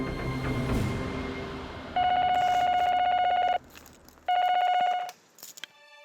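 Two long electronic ring bursts from a telephone, each steady and loud, separated by a short silence, followed by faint clicks.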